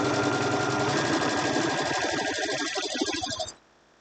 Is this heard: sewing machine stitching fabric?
yes